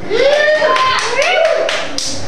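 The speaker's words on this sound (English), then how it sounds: "we got about five claps, that's okay" A small audience at a live evening show gives a handful of scattered claps, brief and sparse, mixed with voices throughout.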